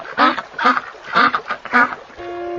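Four loud, evenly spaced nasal honks from geese, close and alone, followed by a steady tonal hum at the end.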